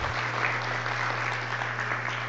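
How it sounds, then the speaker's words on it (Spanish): Audience applause for secondary school students at an Earth Day event opening, a continuous spread of clapping from a crowd heard at a distance, fairly faint over a low steady hum. "Un aplauso para ellos."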